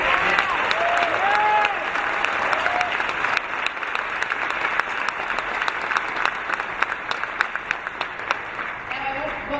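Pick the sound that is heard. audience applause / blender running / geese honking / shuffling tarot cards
audience applause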